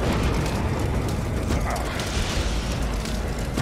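Fire and flames in the video game Judge Dredd: Dredd vs Death roar as a loud, steady, dense rush with rumbling low end, unbroken for the whole stretch.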